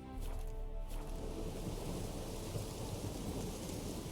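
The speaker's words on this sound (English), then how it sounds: "Looks like rain." Rain and thunder in The Witcher 3, with a heavy, steady downpour hiss and a deep thunder rumble rolling underneath throughout, loud and continuous with no talk.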